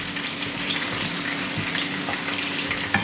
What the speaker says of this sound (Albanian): Do ta skuqim avash